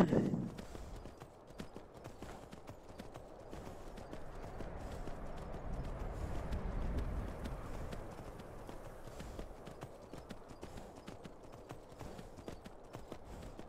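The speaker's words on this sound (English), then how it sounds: "I'm actually like leading the horse around." Horse hooves clip-clop steadily on the ground while the horse is led around in Skyrim VR, a continuous run of light rhythmic thuds with a brief whinny at the start and a denser patch of hoofbeats midway.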